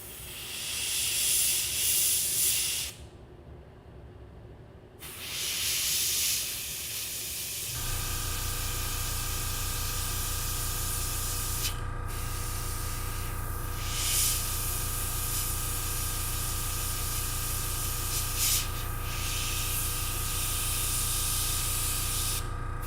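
An airbrush sprays paint with a strong, close hiss that briefly stops and restarts, then continues over a steady low hum from a compressor.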